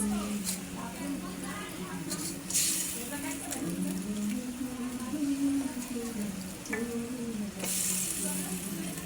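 Fish stirred into a sizzling, well-fried spice paste in a pan, with a steady frying hiss and occasional scraping bursts under continuous talk.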